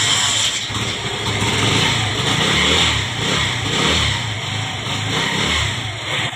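A Honda CD70 motorcycle engine, just fitted with new clutch plates, starts and runs nearby with uneven revving that swells and dips over several seconds, loud and steady with no voices.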